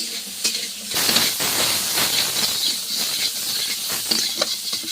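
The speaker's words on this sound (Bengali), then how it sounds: "মাছটা একটু হালকা ভেজে নিচ্ছি" Fish lightly frying in hot oil for a Bengali mango-and-fish sour curry, heard as a steady loud sizzle and hiss close to the pan, with crackling spatters throughout.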